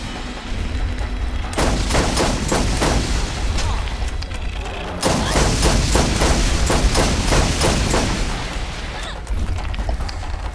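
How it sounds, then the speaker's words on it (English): Rapid video game gunfire comes in dense, loud bursts of sharp shots over a heavy low rumble, with a brief lull in the middle before the volley resumes, and a voice talking underneath. "I shot 3 times on his back with this gun"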